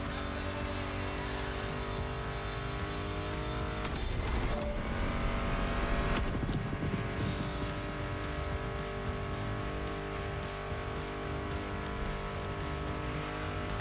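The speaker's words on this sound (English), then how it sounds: "Meshes well with the sound of the engines, you feel me?" Car engines roar and rev in The Crew Motorfest video game, a loud, continuous racing drone with surges around passing moments and steady high-speed whine, no voices.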